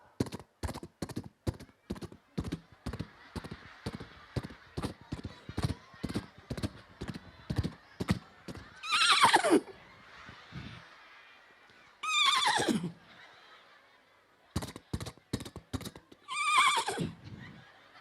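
A man imitates a horse with his voice, first with a long run of rhythmic clopping clicks like hooves, then several loud whinnying neighs rising and falling, alone with no talk.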